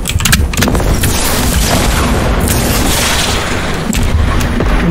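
Missiles raining from the sky in a video game, a loud, dense barrage of booming blasts and rumbling detonations that runs without a break.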